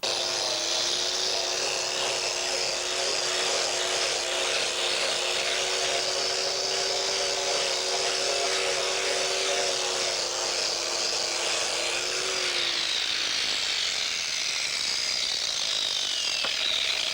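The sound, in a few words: sanding a small tanned furskin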